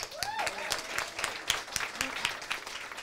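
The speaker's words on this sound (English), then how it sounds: "Let's give a round of applause to you." An audience of about fifty women at a brewery event applauds steadily, with scattered claps and a voice speaking briefly over the noise.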